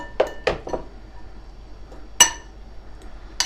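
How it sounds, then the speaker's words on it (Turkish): Grated kaşar cheese being mixed with egg in a bowl, a few sharp clinks and scrapes of utensil against the bowl, spaced irregularly over a quiet background. "Şu şekilde karıştıralım kaşarlarımızı"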